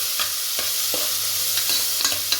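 Onions with spices frying in a pan after mustard seeds have popped, a dense continuous sizzle broken by regular scraping stirs roughly every half second, close and loud with no voices.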